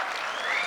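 Brief burst of audience clapping in a hall during a company achievers' celebration in Jaipur, a short, even spatter of many hands, moderately loud and heard alone.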